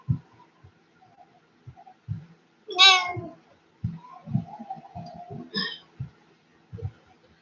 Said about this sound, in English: No, it's a cat. It's not a baby. It's a cat.